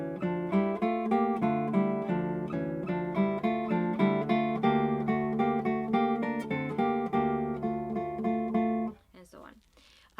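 A classical guitar plays Fernando Sor's Etude No. 9, Op. 6, with steady plucked notes and an inner voice for about nine seconds, then fades out as a faint voice briefly begins.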